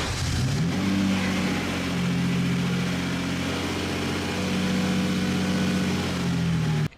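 Lamborghini Diablo sports car engine revving while driving, a loud sustained drone that climbs and holds as the car accelerates, close and continuous, with no voices.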